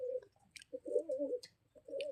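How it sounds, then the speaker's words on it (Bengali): A pair of pigeons coo softly up close in several short rolling phrases, with brief pauses and faint wing or foot rustles in between. "একজোড়া কবুতর দেখাচ্ছি"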